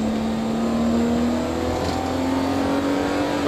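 A 1989 BMW E30 with a 2.5-litre straight-six revs hard up a hillclimb course, its engine note rising steadily and loud, heard close from inside the car.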